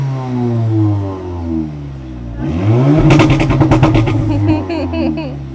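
A loud 550bhp car accelerating hard on a city street, engine note rising and then roaring with rapid revving clatter that echoes off surrounding parked cars, with a voice speaking over the start.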